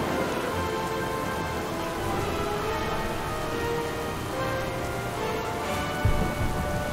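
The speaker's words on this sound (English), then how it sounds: "this storm will soon overwhelm us" Steady heavy rain of a thunderstorm in the World of Warcraft video game, a dense constant hiss with a brief thunder crack near the end.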